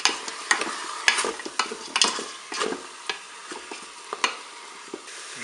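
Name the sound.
onions browning in a Cookeo cooker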